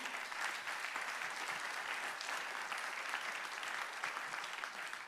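Sustained audience applause fills a hall at the 25th-anniversary evening of the French organisation Ensemble Contre la Peine de Mort: steady, dense clapping at moderate level with no break and no talking.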